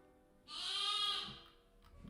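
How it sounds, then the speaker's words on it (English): A sheep bleats once nearby, a loud, wavering cry rising sharply and fading over about a second against a quiet background. "at the moment, I've got the sheep here, as you can hear,"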